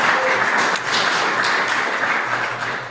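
An audience at a meeting claps continuously in an even, dense wash of applause that stays loud and close throughout.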